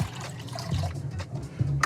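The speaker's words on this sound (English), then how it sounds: "I add the water here" Water trickling and splashing as it is poured into a bowl of rice and grinds, short and close with a gurgling, uneven flow.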